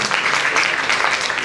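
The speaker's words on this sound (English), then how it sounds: "Please give a big round of applause to Mrs. Arunmai" Audience applause at a national education and employment conference session, a dense, even burst of many people clapping together throughout, with no voices over it.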